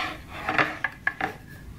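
A scraper rasps against a 3D printer bed to pry off a printed map of the USA, giving a few short, close scrapes and clicks of plastic lifting.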